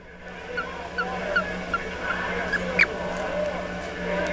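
A small frog found outside gives short, squeaky chirps, about one every half second, then a brief sharper call, all fairly faint over a low background hum.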